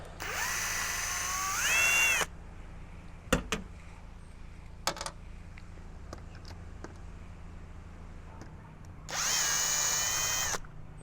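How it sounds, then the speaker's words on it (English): A power drill removes screws from a leaking teardrop trailer, with two whirring bursts of a couple of seconds each, rising in pitch as the screws back out. Clicks and small knocks of handling fill the gap between them. "I'm going to start removing all the screws that hold that in."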